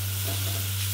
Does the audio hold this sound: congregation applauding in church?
no